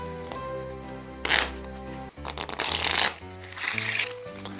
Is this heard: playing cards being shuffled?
yes